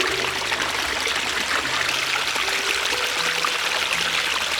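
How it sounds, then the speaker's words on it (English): A loud waterfall pours inside a cave, producing a steady, dense roar of rushing and splashing water that fills the space without pause. "This is like a cave sort of waterfall, isn't it?"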